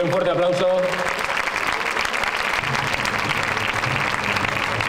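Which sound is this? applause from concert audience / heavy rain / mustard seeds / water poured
applause from concert audience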